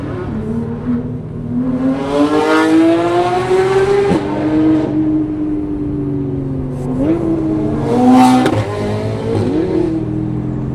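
A car engine revs hard and loud, its pitch climbing and falling through several surges, with a sharp exhaust bang cracking out near the end. The sound is close and continuous, and a person can be heard speaking at points.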